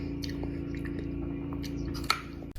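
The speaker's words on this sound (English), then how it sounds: "Why is her swallowing so hard? Like I can hear it in my headphones." Close, wet chewing and squishing of a person eating a meal of protein and vegetables with dip, with soft mouth sounds and a louder gulp-like swallow near the end.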